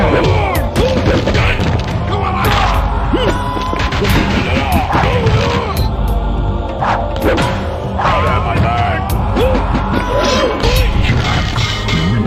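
Crunching smashes, thuds and bone-breaking impacts from a Jax fatality in the Mortal Kombat fighting game, loud and dense with sharp hits layered over game music and effects.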